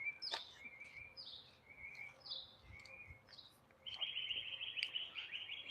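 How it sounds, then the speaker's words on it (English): Birds chirp in Cocoa Beach, Florida, in quick repeated high calls, some sharp and short, others in rapid trills, fairly faint against a quiet background. "A lot of birds."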